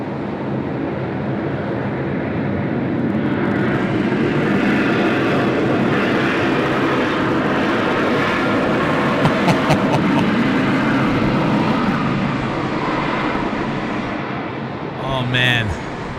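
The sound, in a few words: aircraft landing at Sydney Airport in heavy rain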